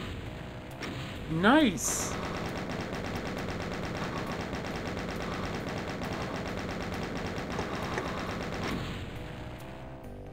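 Rapid gunfire and explosions of barrels in Doom II run continuously through the scene, with a sharp burst near the start, while a player's voice talks over the game sounds.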